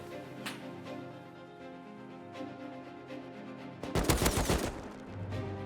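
AK rifle fire in a survival shooter game, a dense burst of rapid shots near the end following softer background game sounds and scattered distant pops.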